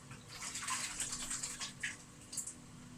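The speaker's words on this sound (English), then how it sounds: "Give your hands a wash." Hands being washed in a bowl of water in a home kitchen, quick close splashing and sloshing in short bursts for a few seconds, with no talk.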